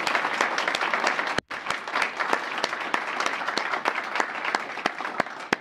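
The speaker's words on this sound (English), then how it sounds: "Let me give Kyle a round of applause." A crowd at a presidential rank awards ceremony applauds steadily, dense clapping filling the room, with a brief gap before the applause resumes and continues.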